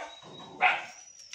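One close dog bark rises out of a quiet room, after a soft low whine or growl just before it.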